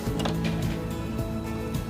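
Singer Quantum Stylist 9960 computerized portable sewing machine stitching through fabric, a steady close mechanical whir with fast repeating needle clatter running throughout.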